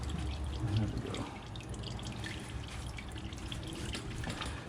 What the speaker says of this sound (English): So we'll let that drain until it gets to a slow drip or stops.